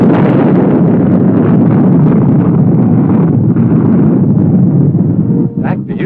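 Launch blast of an Honest John Army tactical missile, a loud, sustained roaring rush close by that fills the clip and cuts off abruptly near the end.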